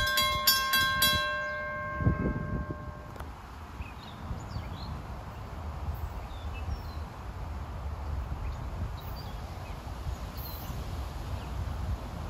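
Railroad crossing bells on a New Jersey branch line ring rapidly for a few seconds as the gates lower for a commuter train, then stop, leaving a low outdoor rumble and scattered birdsong.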